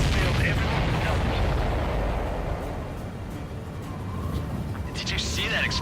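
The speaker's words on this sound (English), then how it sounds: "Did you see that explosion?" Ace Combat 7 explosion in an aerial battle against supply ships, a loud booming burst at the start that rumbles and slowly fades while radio chatter continues over it.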